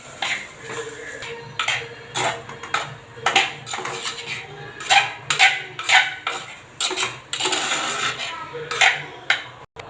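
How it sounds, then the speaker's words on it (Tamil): Spoon clanking against a pan while stirring an onion and tomato mixture for idli upma, a series of close metallic knocks and scrapes in an uneven rhythm. "இப்போ நல்ல வெங்காயம் தக்காளி நம்ம மிக்ஸ் பண்ணி வச்சது எல்லாம் நல்லா மிக்ஸ் பண்ணிக்கலாம்"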